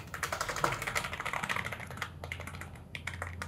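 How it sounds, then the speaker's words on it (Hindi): Fingers type on a Redgear gaming membrane keyboard with tall, mechanical-style keycaps and a slight tactile bump. The quick, close, soft clacks run continuously and quiet down slightly toward the end. "एक बार टाइपिंग वगैरह करके देख लेते हैं"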